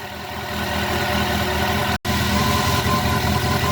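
A Yamaha FJR 1300 motorcycle engine idles smoothly and evenly after carburetor synchronization, a steady close rumble that drops out for an instant near the middle before resuming.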